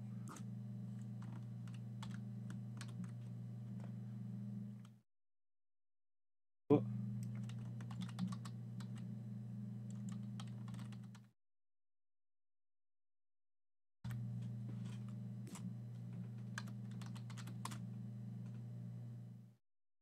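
Steady rapid keystrokes on a computer keyboard entering a sudo command in a Linux terminal during a Porteus USB install, fairly quiet over a constant low hum, cutting out twice into silence before resuming.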